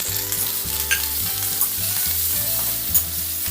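Garlic and ground pork frying in a pan for chaofan, a close, steady sizzle with repeated scraping strokes of a spatula stirring through the whole stretch, no voices.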